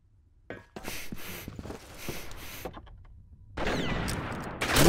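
Bursts of gunfire in a shooting video game, with rapid crackling volleys and sharp single shots in clusters, then a louder sustained burst near the end.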